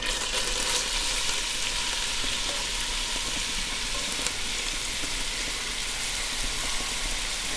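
Thinly sliced yellow onions sizzle steadily in hot oil over medium-high heat, a dense, continuous crackling fry that holds close and even throughout with no voices.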